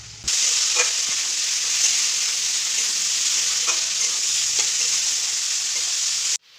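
Loud, continuous hiss of chicken frying in hot oil with fried onions, close up, with a few soft stirring clicks, stopping abruptly at the end.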